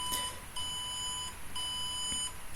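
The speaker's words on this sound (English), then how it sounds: "letting go of the alarm as soon as social distancing violations number increases above 2." A homemade social distancing detector sounds an electronic alarm, two long steady high-pitched beeps separated by a short gap, loud and close with no voices.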